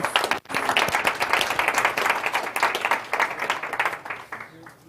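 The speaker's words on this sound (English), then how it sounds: "Another round of applause as he leaves." An audience at a Google-hosted event on AI and food systems gives a round of applause as a guest leaves, dense crowd clapping filling the room for about four seconds before tapering off, with some voices mixed in.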